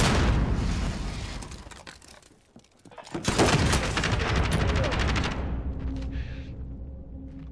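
Bombing runs and missile strikes in a multiplayer shooter video game, a dense roar of explosions and gunfire that dips briefly, then surges back loud and sustained before fading into a lower rumble.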